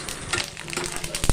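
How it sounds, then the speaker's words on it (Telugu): Dried vadiyalu, pepper masala sooji rava and sago crisps, fry in hot oil with a loud, busy crackle and sizzle of dense pops and spits, close up and continuous. "ఒరుగులు ఆయిల్ వేయంగానే చట్పట్ రావాలండి"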